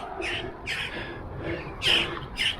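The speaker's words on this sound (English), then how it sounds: "And crows fighting there, by the looks of it." Several crows squawk and caw in harsh bursts, a few loud rough calls spaced across a couple of seconds over faint outdoor background, as the birds fight in a small, pretty countryside spot.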